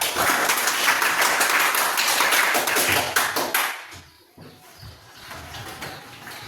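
A class group claps the 'tepuk kanan' right clap, giving a dense, rapid run of hand-clapping for about three seconds that then breaks off into scattered taps and quieter room noise.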